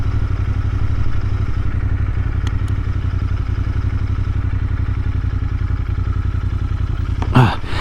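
Royal Enfield Continental GT 650 motorcycle on the road, a loud steady low engine thrum with a pulsing beat running throughout, brief clatter near the end.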